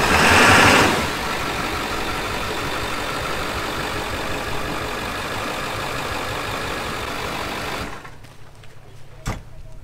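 A vehicle engine idles steadily with a small amount of throttle, a continuous mid-pitched drone that surges slightly at the start and drops away near the end with a brief knock.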